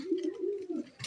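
A male Lakkha fantail pigeon coos at a female, one close, low, throaty rolling coo lasting about a second, alone without talk.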